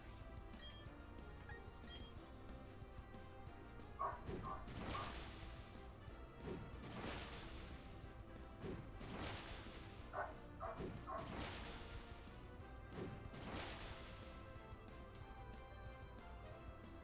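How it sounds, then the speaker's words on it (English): Neighbour's dog barking somewhere outside, a few sharp, fairly distant barks in bursts over steady game music and background noise. "Oh, there's the neighbor's dog again."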